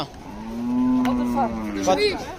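A cow gives one long, loud, close moo at a busy cattle market where livestock are being sold, the call rising and then trailing off with background bustle.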